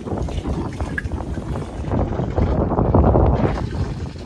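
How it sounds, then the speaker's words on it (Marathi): Wind gusts outdoors on a walk, a steady broadband rush with buffeting against the microphone, swelling louder toward the middle and then easing slightly. "वारं सुटला आज पण"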